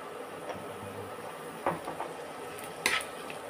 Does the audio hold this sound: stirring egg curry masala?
yes